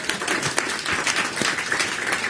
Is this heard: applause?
yes